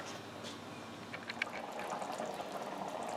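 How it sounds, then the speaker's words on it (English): A pot of cream of mushroom soup boiling, with a faint, soft bubbling and occasional small pops, quiet and steady. "Let it boil."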